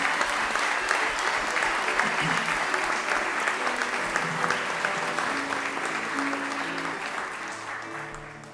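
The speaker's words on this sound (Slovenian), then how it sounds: "lahko jim pa namenimo en lep aplavz" Sustained applause from an audience at a kindergarten's tenth-anniversary celebration, a dense wash of many hands clapping steadily for over eight seconds and fading slightly toward the end.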